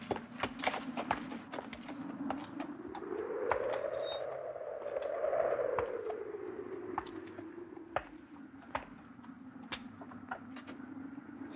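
A horse is led away, its hooves clip-clopping in an irregular series of sharp knocks, with a passing rumble swelling and fading in the middle.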